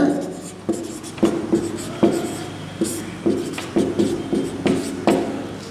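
A teacher's chalk taps and scratches on a classroom board during a chemistry lesson on metals and non-metals, coming in short irregular strokes with a steady background hum.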